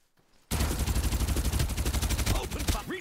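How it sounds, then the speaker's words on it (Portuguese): Automatic gunfire in the Farlight 84 video game erupts after a brief quiet start, a loud, rapid stream of shots that continues almost without pause until the end. "Ouço tiros, hein? Os caras tão aí?"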